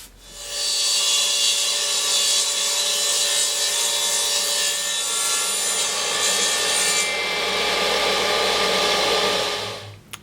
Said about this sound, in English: I'm just going to rip it with my radial arm saw.